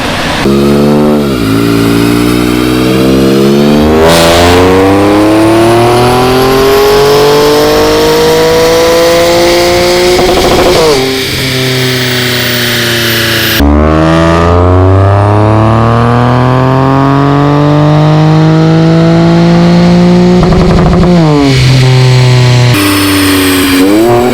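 A Q50 with a VR30 twin-turbo engine and lower downpipes, exhaust valves closed, revving hard on a dyno, loud and close, with repeated long pulls that climb and fall and brief pauses between runs.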